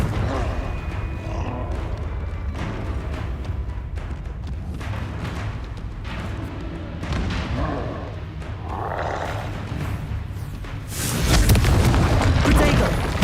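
Spell blasts boom and roar in the video game Hogwarts Legacy, a Confringo fire spell, with loud continuous rumbling explosions and bursts that swell into a heavier blast near the end, while a voice talks over parts.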